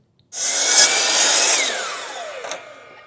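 Close, loud cutting of a wooden face plate board for a replacement shed ramp, a single continuous rasping stroke lasting a few seconds that fades toward the end with a brief final scrape.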